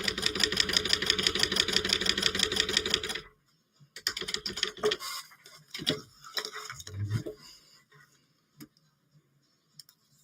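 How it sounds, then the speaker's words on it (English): Sewing machine top stitching a Kandou Patterns Mini Traveler bag, a fast rapid rhythmic needle clatter for about three seconds that stops abruptly, followed by scattered handling clicks and rustles. "we are top stitching"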